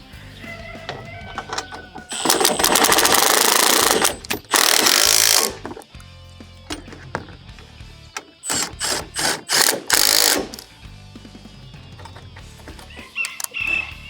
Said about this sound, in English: I'm just going to go ahead and bolt these in.